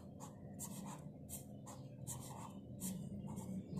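Marker or chalk writing on a classroom board during a lesson on geometric series, steady scratchy strokes coming in bursts with short pauses, close and fairly loud, no voices.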